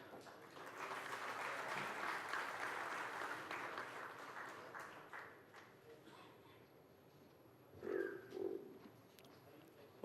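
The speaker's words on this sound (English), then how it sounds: "Can we have a round of applause?" An audience at the Mindmine Summit 2018 valedictory session gives a round of applause, a broad wash of clapping that fades out after several seconds, followed by brief voices.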